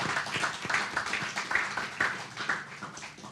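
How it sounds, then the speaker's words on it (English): A conference audience applauds, a dense, even patter of many hands clapping at moderate distance for several seconds without a break. "a round of applause is absolutely needed"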